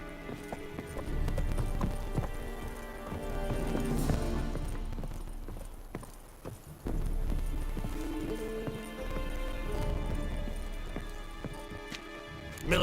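Roach, a horse in The Witcher 3 video game, clip-clops along in a steady walking rhythm, hooves clear and close, while voices talk over the hoofbeats and ambient game sound.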